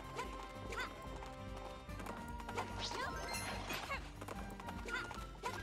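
Galloping horses in Princess Peach: Showtime!, a steady rapid clip-clop of hooves running throughout alongside busy game music and effects, with a neigh or two mixed in.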